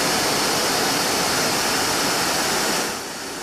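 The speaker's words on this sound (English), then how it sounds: "Here the blade is traversing at 100 inches per minute and the groove is ½ an inch wide" A thermo cutter blade grooves an elastomer strip, traversing at 100 inches per minute to cut a half-inch wide, half-inch deep groove; a loud, steady hissing roar runs throughout and drops slightly near the end.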